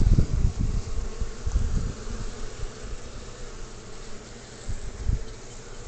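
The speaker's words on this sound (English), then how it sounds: "Whole lot of bees." Honeybees in an open top bar hive hum in a soft, continuous buzz, with louder bursts as individual bees pass close by, all fairly quiet and without talk.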